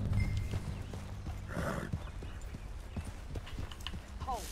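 Horse in Red Dead Redemption 2 clip-clopping at a fast pace, with a whinny partway through, heard amid busy outdoor game ambience.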